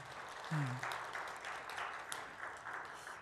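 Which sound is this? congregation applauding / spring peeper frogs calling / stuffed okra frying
congregation applauding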